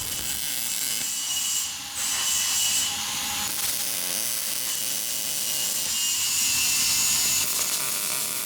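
A power wire on a turbo Predator 670 dragster is cut out with a tool, giving a steady rasping, sawing scrape close by that carries on with a brief dip partway through.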